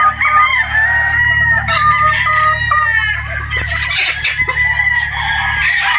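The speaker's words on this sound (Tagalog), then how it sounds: "Ito po sila, yung ating Boston." Boston Roundhead roosters crow loudly and repeatedly up close, with clucking from other fowl running underneath throughout.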